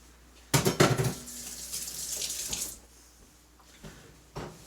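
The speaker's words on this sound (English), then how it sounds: "Quick wash my hands." Hands are rinsed under a running kitchen tap, with a loud burst of splashing water that tapers into a softer trickle, then a brief final splash near the end.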